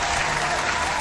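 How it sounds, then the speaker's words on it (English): A crowd at a rapid chess tournament applauds the game winners with loud, steady, continuous clapping throughout. "Let's give them a clapping hand."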